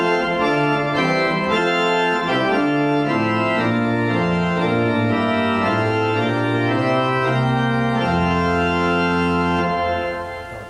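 A Felgemaker/Brunner 28-rank pipe organ plays its full great chorus of 8, 4 and 2 foot principals, mixture and 8 and 4 foot flutes, a loud, bright sustained chordal passage with moving harmonies held throughout before releasing at the end.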